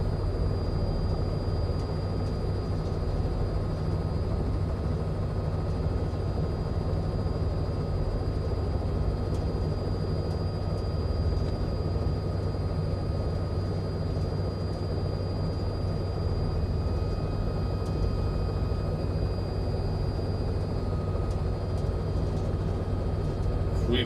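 Robinson R66 helicopter holding a steady hover in Microsoft Flight Simulator 2024, a continuous droning turbine and rotor hum with a thin high whine running throughout, loud and unbroken.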